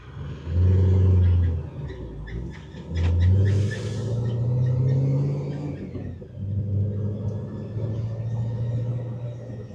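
A car engine fitted with a Rotrex supercharger held near 2,000 RPM, a loud low hum swelling in a few surges over about ten seconds, with steady mid-level rumble between the pushes.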